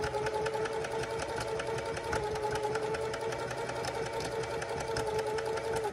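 Foot-pedal-controlled sewing machine stitching at a steady, moderate pace, a continuous rhythmic whirring and ticking heard close and alone.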